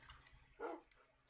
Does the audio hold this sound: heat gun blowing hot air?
no